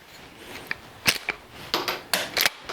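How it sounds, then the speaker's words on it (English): Sharp gunshots from a Winchester Model 250 rifle fired offhand, a rapid irregular series of crisp cracks, several in quick succession, fairly close and distinct with no talking. "we're going to go ahead and do some offhand shooting"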